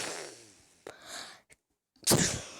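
A single sneeze erupts near the end after a short intake of breath and a pause, loud and close, preceded by a few breathy vocal sounds.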